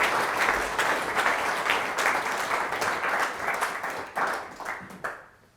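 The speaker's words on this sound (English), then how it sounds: "please give him a round of applause" Audience applause welcoming a speaker before a lecture and Q&A, a loud, dense round of clapping that stays steady and then thins out at the end.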